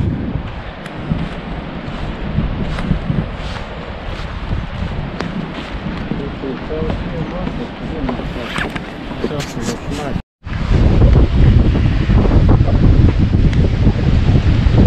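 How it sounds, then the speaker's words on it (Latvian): Strong coastal wind buffets the microphone while sea waves crash and surge on the shore after a storm, loud and continuous, with a brief dropout before the roar returns. "Diezgan pavērs vējiņš."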